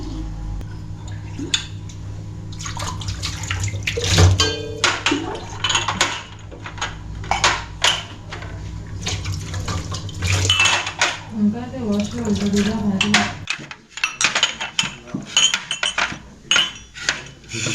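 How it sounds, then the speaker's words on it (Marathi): Cups being washed under a running tap in a busy breakfast kitchen: a steady hiss of water runs throughout, broken by frequent close clinks and knocks of crockery and utensils, with a voice speaking intermittently over it. "ह्याला पण आता जरा आपण चांगलं वॉश करून घेऊया"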